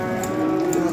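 A calf gives a short, close moo at a livestock market in Beylaqan, heard alone without talk.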